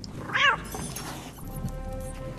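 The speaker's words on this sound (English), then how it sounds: "There's a kitty." A cat meows once loudly in the House of 1000 Doors video game, a short plaintive cry followed by quieter ambient game sound.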